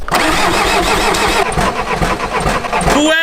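A Volkswagen Passat engine cranks in a loud, fast rhythmic churn for about three seconds, then catches and fires with a rising rev at the end.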